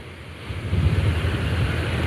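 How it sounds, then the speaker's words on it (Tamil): Kosasthalaiyar river water pours over the Thamaraipakkam check dam like a waterfall, making a loud, continuous roaring rush with a deep rumble and no speech. "ஆர்ப்பரித்து அருவி போல் கொட்டி வரும் நீரில்"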